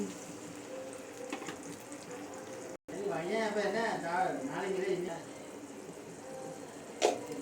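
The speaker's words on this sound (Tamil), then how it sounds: "புளி கரைசல் தண்ணி ஊற்றியாச்சு" Tamarind water pours and splashes steadily into a pot for fish curry up close, while a person talks over the running water.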